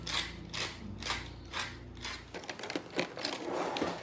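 A pepper mill grinds black pepper in a kitchen with a close, quiet, rhythmic crunching ratchet of several twists, followed by a brief clatter.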